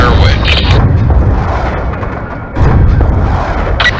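Heavy booming Hellfire missile strikes in Call of Duty Black Ops 2, a dense continuous rumble of blasts with a fresh impact near the middle and another toward the end, loud and close, with radio chatter over it.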